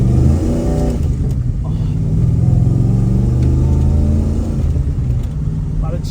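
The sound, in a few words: Holden VN 5L Commodore engine revving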